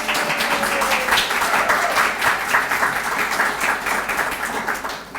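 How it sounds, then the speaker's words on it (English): A crowd applauds volunteers and staff at a senior resource fair, a full, steady round of clapping that stays strong throughout and eases slightly at the very end. "Can you help me give them a big round of applause?"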